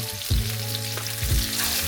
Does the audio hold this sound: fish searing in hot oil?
yes